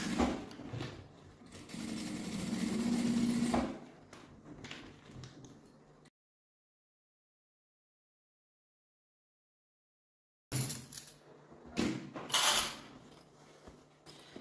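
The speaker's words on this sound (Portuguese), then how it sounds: "E agora a gente vai passar a costura aqui, ó, com um pé de máquina." A sewing machine with a presser foot stitches a seam on a fabric sling backpack, a close whirring run of several seconds, then a long silent gap before shorter bursts of stitching resume.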